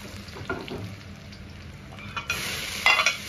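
Scallion and ginger stir-fried in a wok give off a steady sizzle with scraping stir strokes, rising louder near the end.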